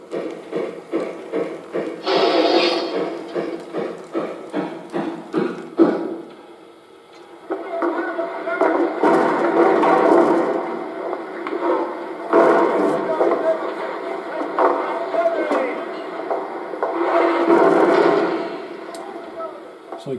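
Simulated boxcar loading sounds from a Vision Line B&O freight sound car: rapid clattering knocks, then a rumbling, hissing stretch with thuds and scrapes, moderately loud, with a few spoken words over it.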